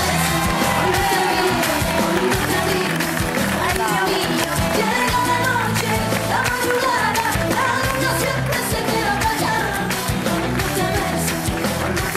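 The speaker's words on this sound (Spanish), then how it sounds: "Vamos a darle un fuerte aplauso a Ana" A television studio audience cheers loudly and without a break, with whoops and shouts rising over a dense wash of clapping and crowd noise.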